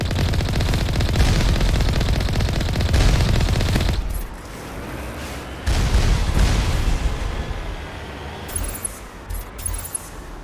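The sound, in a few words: turret gunfire in the video game Mass Effect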